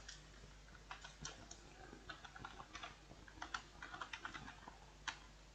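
Fingers tap commands onto a computer keyboard in quick, irregular bursts of soft clicks, fairly close and quiet, with no voices.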